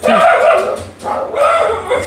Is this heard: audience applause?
no